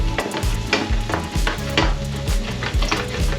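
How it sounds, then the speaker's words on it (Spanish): Garlic fries in a pan while being stirred, with a constant close sizzle under repeated rhythmic scraping strokes of a utensil against the pan, no voices. "sofreímos los ajitos"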